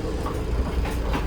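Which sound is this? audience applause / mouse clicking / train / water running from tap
train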